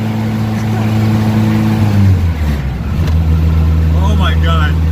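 Turbocharged Honda Civic EG hatchback pulling hard under boost, a loud engine note holding steady then dropping as it shifts and climbs again, close by, with people talking excitedly over it near the end.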